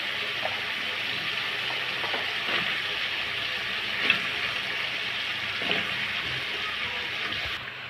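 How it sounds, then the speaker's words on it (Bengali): Washed mixed vegetables dropped into hot spiced oil, a soft steady sizzle with a few faint clinks and stirring scrapes, fairly quiet throughout. "এখন দিয়ে দেবো ধুয়ে রাখা সবজিগুলো।"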